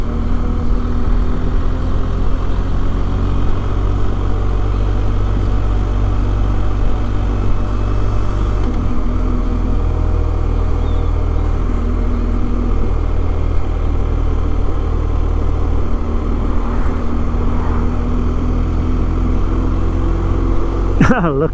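An old 50 cc moped engine idles and putters steadily for the whole stretch, loud and close, with a low rumbling drone that barely changes.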